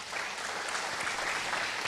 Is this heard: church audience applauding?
yes